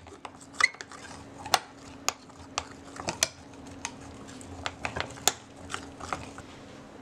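Chocolate cake batter being mixed in a bowl, a utensil scraping and clinking against the sides in irregular taps and knocks, close and fairly quiet, with no talking.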